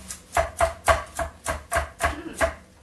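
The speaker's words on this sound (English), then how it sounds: "So, I just want to cut this about the same size that I'm cutting my onions." A knife chops a carrot on a cutting board in about nine crisp, evenly spaced strokes, close and clear with no voice over it.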